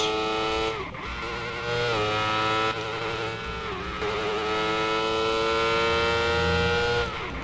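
Scooter engine in the Motorbike Evolution video game, a loud, sustained buzzing whine that rises and dips in pitch with brief gear-change breaks, heard close and alone.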